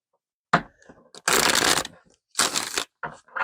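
Playing cards being shuffled by hand during a tarot reading, with several loud riffling bursts broken by short pauses and softer handling clicks, close to the listener and with no voices.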